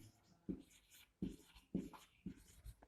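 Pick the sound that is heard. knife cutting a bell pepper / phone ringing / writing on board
writing on board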